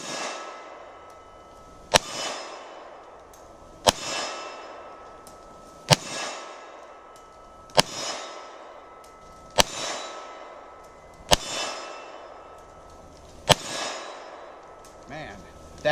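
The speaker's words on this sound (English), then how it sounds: "so I'm going to fire a few shots here and" A 10mm Ruger SR1911 pistol fires seven or eight evenly spaced shots, roughly two seconds apart, each a loud sharp crack with a short ringing decay, heard close up over quiet background music.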